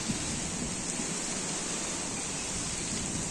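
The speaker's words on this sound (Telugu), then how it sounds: "పటపట పటపట వర్షం పడుతుంది" Heavy wind-driven rain beats down steadily around palm trees, a dense, unbroken hiss at moderate loudness with no voices.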